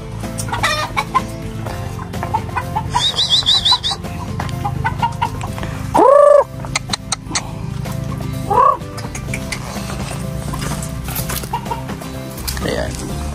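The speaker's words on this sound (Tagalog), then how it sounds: "Ayan yung mga alagang manok." Pet chickens cluck repeatedly close by amid outdoor rural ambience beside a hut and banana plants, with a few louder squawks and scattered bird calls.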